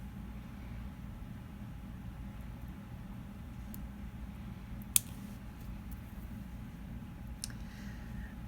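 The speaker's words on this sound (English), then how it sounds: "I'll just cut my thread there" A pair of scissors gives a single quiet snip through beading thread midway, against a faint hissing room background with a couple of tiny clicks later on.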